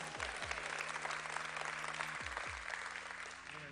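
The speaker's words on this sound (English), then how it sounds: "Give him a big round of applause." Audience applause at a magic show in Pigeon Forge, a steady wash of clapping from a crowd lasting the whole stretch, with low thumps and a faint voice underneath.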